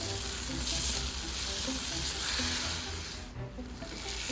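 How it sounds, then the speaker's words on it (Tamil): Tomatoes sautéing in a pan for chicken curry give a steady, close sizzle with stirring scrapes throughout, briefly dipping near the end before rising again. "தக்காளியை ஆட் பண்ணதும் நல்லா வதக்கிட்டே இருக்கணும்."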